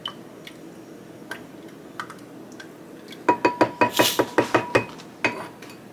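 Yeast mixture stirred briskly in a bowl for homemade calzone dough: a few scattered light taps, then a rapid run of about ten sharp utensil-on-bowl clinks, followed by one last knock.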